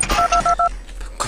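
Telephone keypad tones in the video game Five Nights at Candy's 2: four quick, evenly spaced dual-tone beeps, clear and close, followed by a short burst of noise.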